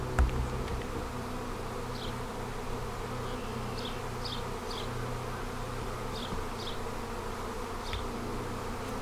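A dense, continuous buzz of a swarm of honey bees fills the air, steady and close, with occasional individual insects zipping past.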